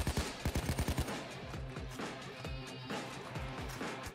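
Automatic sentry turret firing in Payday 2: a rapid burst of closely spaced gunshots at the start, followed by more scattered, rolling gunfire that continues through the rest of the clip, loud and dense, with no talking.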